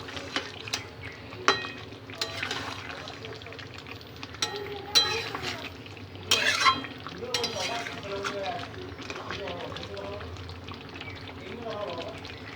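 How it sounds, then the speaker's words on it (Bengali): Chicken curry being sautéed in a pan with tomato ketchup, a steady low sizzle under the clatter and scrape of a spoon stirring, with a few sharper knocks against the pan along the way. "বড় চামচে 2 চামচের মতো টমেটো কেচাপ দিয়ে এটা ভালো করে কষে নেব"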